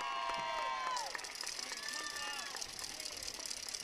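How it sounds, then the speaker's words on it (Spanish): A crowd at an outdoor political assembly in Santo Domingo Tehuantepec, Oaxaca, cheers and applauds, with shouting voices and whistles over a steady roar of clapping. "Vamos a brindarle un fuerte aplauso y con cariño, fuerte, fuerte"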